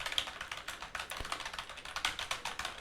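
Rapid typing on a computer keyboard, a brisk uneven run of close, crisp key clicks with one heavier thump partway through, with no talking.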